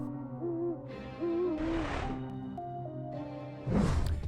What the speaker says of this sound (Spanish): Hoy en Conexión Animal, búho virginiano.